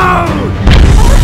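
A cannon fires a single heavy boom midway, loud and close, following a stretch of low rumbling noise.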